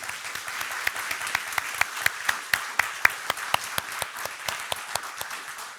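Steady applause from a conference audience at an opening session, with sharp individual claps standing out in a regular rhythm over a dense wash of clapping, loud and close.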